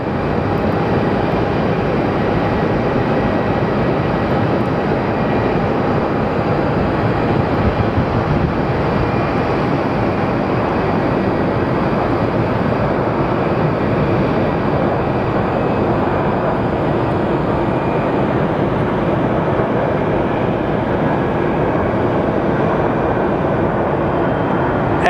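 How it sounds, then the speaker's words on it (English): Steady, loud jet roar of an airliner arriving from Milwaukee and landing at Phoenix Sky Harbor Airport, a broad continuous rumble that holds for the whole stretch with no voices over it. "our flight from Milwaukee has landed"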